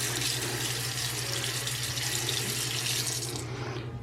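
Hands are washed under a steady stream of running water from a hotel room sink tap, a continuous close hiss that cuts off near the end.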